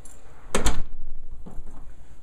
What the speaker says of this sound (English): And the door latches.